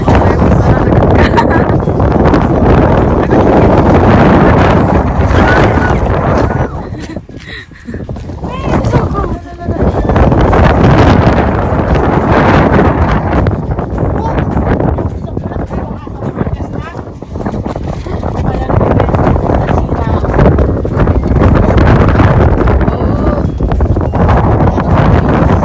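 Strong wind blows hard and steadily against the microphone outdoors while a garage is being built, a loud continuous roar with brief lulls around the middle, and people talking underneath.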